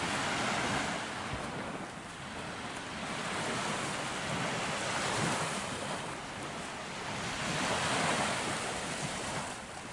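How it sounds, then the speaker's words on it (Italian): Calm sea waves wash onto the beach at Marina di Vecchiano in a steady, rolling roar that swells gently and recedes several times, with some wind noise on the microphone. "È tranquillo il mare, non è troppo mosso"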